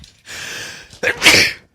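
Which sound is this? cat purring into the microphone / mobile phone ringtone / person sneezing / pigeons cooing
person sneezing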